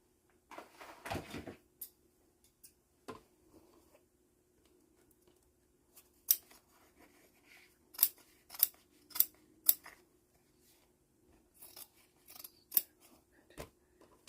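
Several crisp snips of scissors cutting through fabric, spaced irregularly with quiet pauses and some soft handling noises in between.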